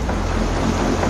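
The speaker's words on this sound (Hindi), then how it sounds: "भारी बारिश की वजह से वहां सड़क पर ही नदी बहने लगी।" Floodwater after heavy rain pouring along a street in Surendranagar, Gujarat, a loud, continuous close rushing roar with no breaks and no voices.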